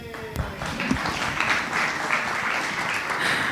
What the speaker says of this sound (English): all I had to do was walk out for that applause